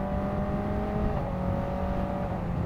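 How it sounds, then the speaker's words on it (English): A Kawasaki ZX-4RR motorcycle engine held at fairly high revs, kept well short of its 16,000 RPM redline, giving a loud, steady, close-up whining drone with no break. "I'm not even revving it to its red line"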